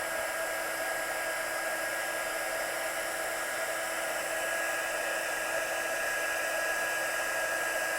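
Heat tool blowing hot air to melt clear embossing powder over black stamped ink on card, a steady loud whirring hiss with a faint high whine, continuous and unchanging throughout.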